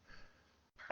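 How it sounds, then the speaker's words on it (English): A sudden, sharp burst of breath at the very end, sounding like a single sneeze, preceded by a quiet inhale and faint background murmur. "I was sneezing halfway through that"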